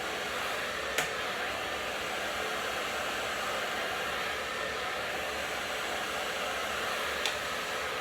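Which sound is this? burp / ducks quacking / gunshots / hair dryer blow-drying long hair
hair dryer blow-drying long hair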